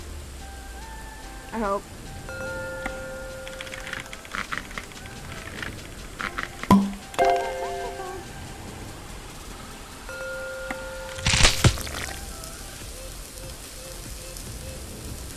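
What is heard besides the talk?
rain in the video game Cook, Serve, Delicious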